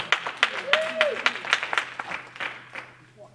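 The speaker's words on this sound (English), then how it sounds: "Give him a hand clap." A church congregation gives a round of hand clapping, distinct claps in a loose rhythm that thin out and fade, with a voice speaking over the start.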